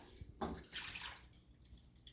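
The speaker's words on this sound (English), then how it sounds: "I'm going to go and begin to just ladle this in through the chinois" Stock ladled through a chinois strainer into a bowl, soft liquid pours and splashes in short bursts with quiet drips between, faint and close.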